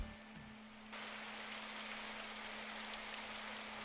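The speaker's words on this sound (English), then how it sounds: "the first thing to reach my ears was the sound of rain spattering on the pavement" Steady, soft rain spatters on pavement, forming a dense, even hiss that starts abruptly after a quiet moment and continues without voices.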